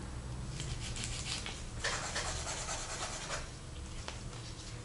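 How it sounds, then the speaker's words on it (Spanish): A hand file rasps over acrylic nails in steady back-and-forth strokes, close and fairly soft, with no talking. "lo que vamos a hacer es repasarlo con la lima"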